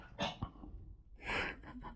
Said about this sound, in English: Sorry, that's just Diesel in the background coughing his guts up.